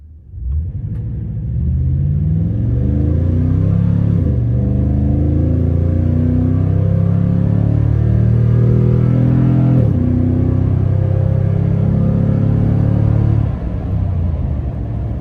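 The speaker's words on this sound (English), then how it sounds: "from a standing stop, we're gonna get on it and drive up the road." A Toyota Tundra pickup engine revs hard from a standstill and climbs through several gears, its deep aftermarket exhaust rumble rising in pitch with each pull, loud and close throughout, heard from inside with the window up.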